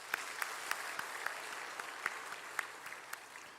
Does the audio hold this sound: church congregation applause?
yes